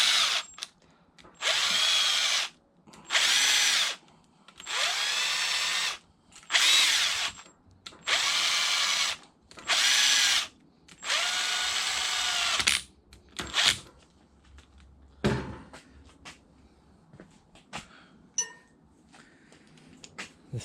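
A power drill spins down the bolts on a Yamaha YFZ450R engine during a rebuild, giving seven loud, evenly spaced bursts of whirring with short pauses between them, then quieter clicks and handling noises.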